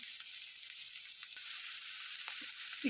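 Vegetables for vangibath gojju cook in oil in a pan, giving a steady soft sizzle throughout with a few faint stirring knocks near the end.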